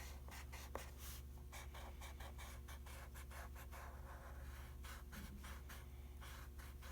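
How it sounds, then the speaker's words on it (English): Eraser rubbing back and forth over a pencil center line on paper, a series of short, soft scratchy strokes in quick rhythm, close up and fairly quiet. "I would then erase my center line"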